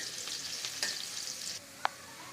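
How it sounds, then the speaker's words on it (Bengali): Chopped onions hit hot oil with a broad, steady sizzle and crackle for about a second and a half, under a couple of stirring scrapes, then the hiss drops away, leaving a single sharp clink near the end. "তেলটা গরম হয়ে গেছে, এখন কিছু পেঁয়াজ কুচি দিয়ে দিলাম।"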